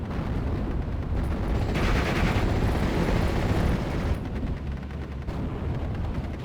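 Tank cannons and battlefield gunfire in Steel Division: Normandy 44, a continuous dense rumble of heavy booms and rattling shots, loud and layered with no gaps.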